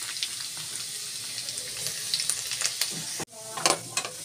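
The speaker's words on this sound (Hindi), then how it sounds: "साथ ही डाल देंगे इसमें हम लहसुन।" Garlic fries in hot oil with cumin seeds in a home kitchen pan, giving a continuous close sizzle full of crackles and pops that drops out briefly before resuming with renewed spitting.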